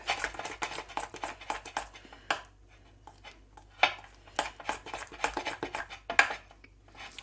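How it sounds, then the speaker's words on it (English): Margarine icing being mixed in a bowl, a spoon scraping and clinking against the sides in quick irregular strokes, close and fairly quiet with short pauses between bursts. "let's mix it in together"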